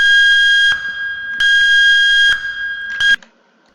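Loud electronic alarm at a rocket launch in the Minecraft HBM nuclear tech mod, a piercing steady tone in long bursts broken by short gaps, then cutting off abruptly.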